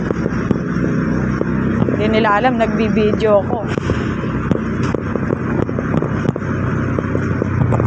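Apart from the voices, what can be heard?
riding a motorcycle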